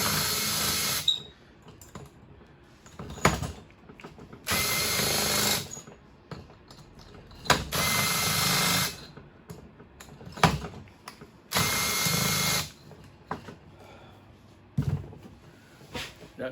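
A Makita power tool unfastening bolts on a Stihl 090 chainsaw, firing in four loud whirring bursts of a second or so each, separated by quieter stretches of clicks and handling noise.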